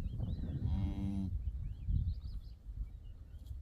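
A cow lows once in a barn, a drawn-out moo of about half a second, heard close over rustling stable noise with faint bird chirps in the background.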